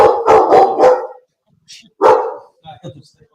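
A dog barks loudly and close by in a quick burst of three, then a single bark after a pause, ending in softer whimpering sounds, with people talking during a live draft watch party.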